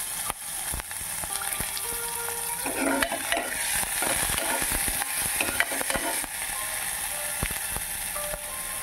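Onions fry in hot oil with mustard seeds, a steady close sizzle overlaid by scraping and clicking from a spatula stirring the pan, moderately loud and without talking.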